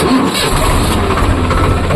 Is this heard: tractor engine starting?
yes